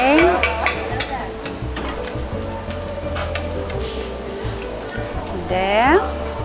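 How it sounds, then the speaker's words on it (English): A spoon scrapes and stirs pumpkin puree in a pot on a stovetop over low heat, a steady soft scraping texture with voices talking over it. "Then you put the pumpkin puree on the stove and stir it on low heat."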